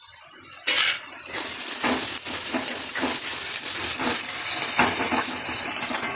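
Garlic paste hits a pan of frying onions for a chicken dish, setting off a loud, steady hiss of sizzling with a few sharp clinks of a utensil against the pan.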